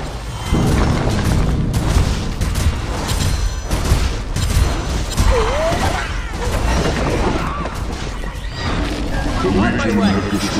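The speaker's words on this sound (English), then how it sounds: "The Legion have destroyed the Hellborn Tower." A tower structure collapsing in the MOBA Monkey King MVP Arena, with dense booms and crashing impacts under steady game music and effects, loud and continuous throughout; a voice speaks briefly.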